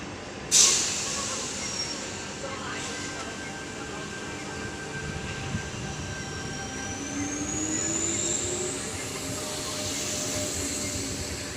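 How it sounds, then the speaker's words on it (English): A Sydney train departs platform 3, a sharp air-brake hiss at the start followed by a rising electric whine and a steady rumble of wagons pulling away from the station. "Bondi Junction service departing platform 3."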